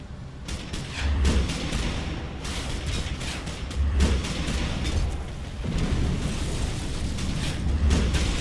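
Shotgun blasts in the superhero online game DC Universe Online, booming over a busy layer of game effects: three heavy low thumps land roughly every few seconds, loud and near, with no talking.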